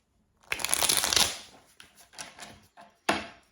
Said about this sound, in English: now I'm starting to shuffle standing up.